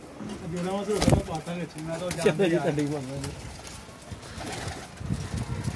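Young pigeons coo in soft, rolling calls close by, with a sharp flutter of flapping wings and a voice speaking over them.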